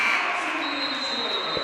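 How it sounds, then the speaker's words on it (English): A sustained electronic buzzer ends the first quarter of a boys high school basketball game in a gym, blaring loud and steady over crowd noise for the whole moment. "As the buzzer sounds"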